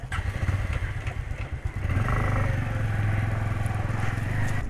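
A motorcycle engine rumbles close by while the bike is ridden toward parking near Elephant Falls in Shillong, starting with uneven chugging and clatter, then settling into a louder steady drone for the rest of the clip.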